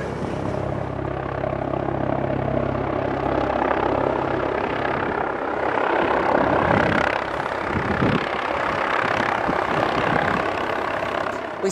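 CalSTAR medical helicopter landing at a single-vehicle rollover scene, a steady loud rotor and turbine roar filling the whole stretch, with faint voices mixed in underneath.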